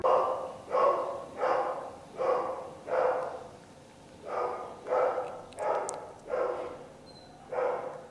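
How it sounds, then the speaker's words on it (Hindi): A dog barks outside a house, about ten evenly spaced, mid-distance barks in a steady rhythm with a short pause midway, and nothing else heard. "ये कुत्ते के भौंकने की आवाज सुन रहे हैं आप?"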